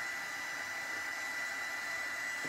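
A heat tool blowing hot air to dry glaze on a rustic altered bottle in a craft studio, a steady, even whirring hiss that runs unbroken and close throughout, with no talking.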